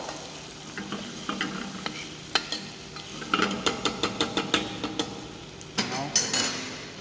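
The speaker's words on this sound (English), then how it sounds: "Now again mix it again" Chicken pilaf being stirred in a hot pan, with a continuous sizzle and a run of repeated clinking spoon scrapes and knocks against the metal, close and loud.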